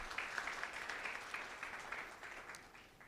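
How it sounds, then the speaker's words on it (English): Conference audience applauds at a medical group's annual meeting, a soft, distant wash of clapping heard steadily from the start and tapering slightly toward the end. "So give a big round of applause,"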